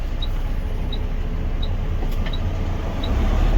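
A truck drives past on a rural road in Grand Ronde, Oregon, near a steel plate on the roadway: a steady, loud, close engine and tyre rumble that swells slightly toward the end, with faint periodic high chirps behind it.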